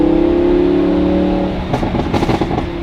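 A Lamborghini Gallardo LP610-4 V10 with factory catalytic converters revs steadily near 4,000 rpm, loud and close. Its smooth harmonic drone breaks into a choppy, crackling burble as the throttle eases off.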